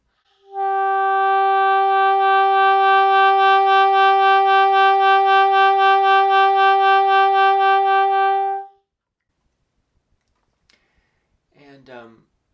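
Saxophone holding one sustained note for about eight seconds with even vibrato pulsing gently up and down in pitch, loud and alone, followed by a brief voice speaking.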